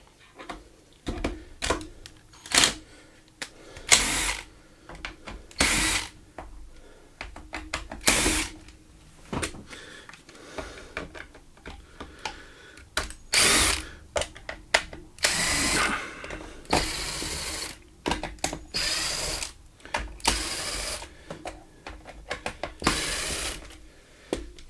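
Impact driver backing screws out of an old semi-automatic defibrillator casing during a teardown, heard as a string of short, loud ratcheting bursts separated by brief pauses and small handling clicks, close up with no talking.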